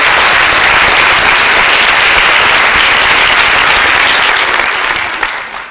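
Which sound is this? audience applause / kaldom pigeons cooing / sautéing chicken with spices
audience applause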